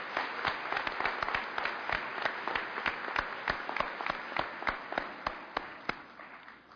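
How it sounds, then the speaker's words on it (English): Audience applause at a 2011 Cleveland State Community College graduation ceremony: dense, steady clapping from a large crowd, with sharp individual claps standing out through the whole stretch, no talking. "Let's give a round of applause for Eli"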